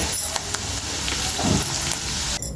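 Cashew chicken fry sizzles loudly and steadily in a hot pan as the last bit of water cooks off, with a brief stirring scrape partway through and no talking.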